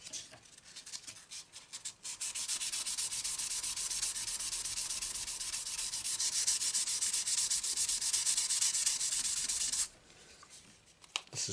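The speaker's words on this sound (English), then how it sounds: "After going over these frets with various grits of sandpaper" Sandpaper rubs steadily over the nickel silver frets of a Santa Cruz OM acoustic guitar, a continuous close, dry scratching for about ten seconds before it stops, with a few brief scrapes afterward.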